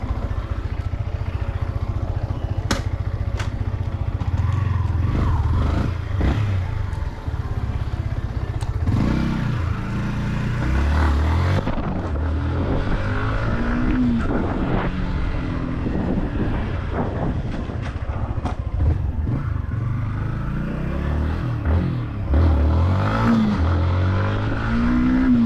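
A Yamaha MT-15 motorcycle engine rumbles steadily through a ride, with its note rising and falling as the rider works the throttle. Road and wind noise run underneath throughout, and no one speaks.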